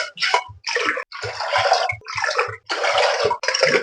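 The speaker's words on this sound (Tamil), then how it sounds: "அதனால இதுல 5 டம்ளர் தண்ணி ஊத்துறேன்." Water poured from a tumbler into a pressure cooker holding moong dal, in bursts of splashing and gurgling separated by short pauses as each measure is tipped in.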